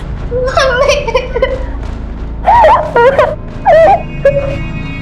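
A girl cries and wails in loud, wavering sobbing bursts close by, breaking into several separate moaning cries.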